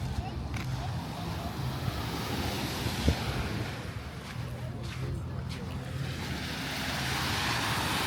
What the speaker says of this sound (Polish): My jesteśmy na plaży.